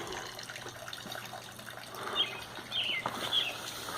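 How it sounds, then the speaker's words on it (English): A solar-powered pump sends water dribbling from a wooden bucket in a garden wishing well, a soft, steady trickle and gurgle, faint and close, with no talking. "connecting the solar panels so that this pump and water dribbling out of the wooden bucket would work"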